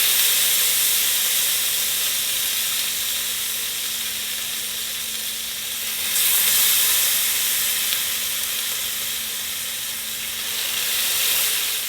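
Bourbon-marinated Wagyu tri tip steak sizzles steadily on the heat, a loud, continuous frying hiss with slight swells, heard alone without any talking.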